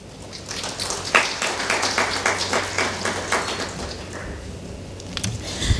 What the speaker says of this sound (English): And another round of applause for Professor Mimali, please.